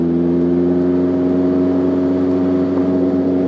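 A Caterham sports car, a British heritage racer descended from the Lotus 7, drones with a steady, loud mid-pitched engine hum and whirring tone while driving, holding an even note without clear rev spikes, no talk over it.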